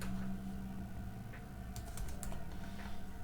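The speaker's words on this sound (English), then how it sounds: "let's say if I type a word" Keys on a computer keyboard are tapped to type a single word, a short burst of quiet, close clicks over a faint background hum.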